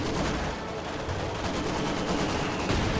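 Sustained Maxim machine gun fire in a World War II video game match, a dense continuous clatter of overlapping shots with distant explosions, loud and unbroken throughout with no voice over it.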